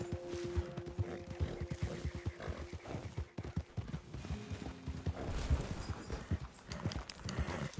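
Hooves clip-clop from a horse in the Red Dead Redemption game, a fairly steady, close gait with some mechanical clicking and game ambience around it, and little talk.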